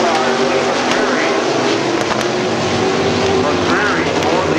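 At Midvale Speedway, a race car engine roars loud and steady as it passes, with a constant mechanical drone throughout. A commentator talks over it the whole time.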